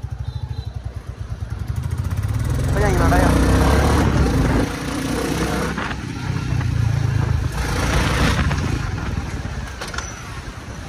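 A Royal Enfield Bullet motorcycle with its kick-start removed runs nearby, its thumping engine idling and then revving, while someone speaks over it briefly.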